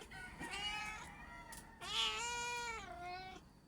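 A pet cat meows close up, giving two drawn-out, wavering calls with a short gap between them. There is no talking over the cat.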